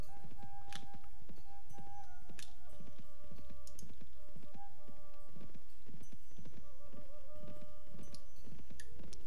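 Horse hooves clip-clopping in steady rhythm while riding in the Mount & Blade Warband game, with a whinny and keyboard typing mixed in, continuous and fairly close.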